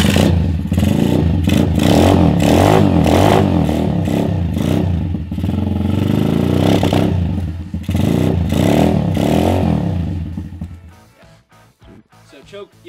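An SYX125 dirt bike engine fires up and revs with loud, rough, uneven bursts and clatter for about ten seconds, then drops off into quieter clicks and handling noises.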